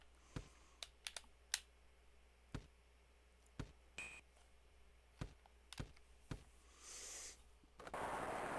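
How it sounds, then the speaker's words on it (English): Mega Drive controller buttons clicking during an NBA All-Star Challenge basketball game, sharp isolated taps spaced irregularly over quiet background hiss, some in quick pairs, fairly close but soft. "you can literally hear the buttons clicking"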